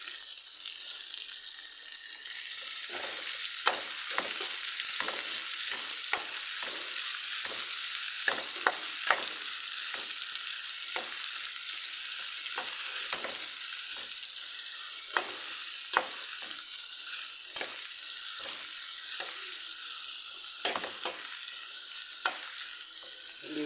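Onions and green chillies frying in a pan for an anchovy curry, a loud, even hiss of hot oil punctuated by frequent quick clicks of a stirring spoon, with no voices.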